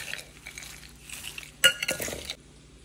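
A spatula scrapes and clatters in a pan as crispy fried ivy gourd, seasoned with salt, chilli powder and turmeric, is tossed with fried peanuts. The soft stirring rises into a louder burst of metallic clinks midway, and no one speaks.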